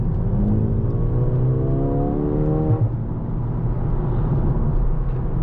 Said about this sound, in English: this has really great response from immediate push of a throttle